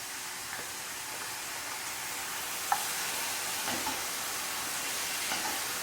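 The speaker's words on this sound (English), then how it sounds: "the apple sauce is doing a nice job of deglazing this pan" Applesauce deglazing a hot frying pan while cooking beery cabbage: a steady soft sizzle and hiss fills the whole stretch, with a few small clicks of stirring.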